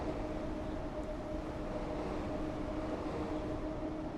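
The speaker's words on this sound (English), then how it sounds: "As we get passed by Pendolino." A Pendolino high-speed train sweeps past in Train Sim World as seen from a Class 90 freight locomotive near Carlisle, a steady broad rumble with faint tonal hum holding level throughout, no voices.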